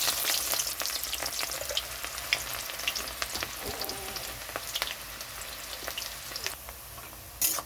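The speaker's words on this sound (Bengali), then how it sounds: "এখানে পেঁয়াজটা ভাজা হয়ে গেছে।" Onions frying in a pan with whole cumin, dried red chillies and garlic, a dense close crackling sizzle with light stirring scrapes, heard alone.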